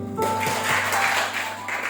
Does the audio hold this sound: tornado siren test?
no